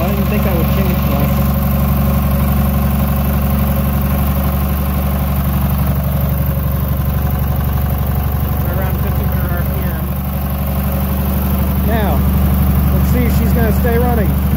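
An opposed twin Briggs engine with a carburetor runs steadily, a loud close low drone with a fast even firing pulse, dipping slightly near the end, while a person talks faintly over it.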